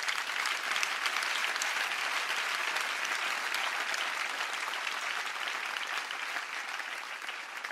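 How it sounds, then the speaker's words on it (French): A youth Bible camp congregation claps loudly and steadily, a dense sustained wash of many hands applauding together without a break. "Let us clap to the Lord."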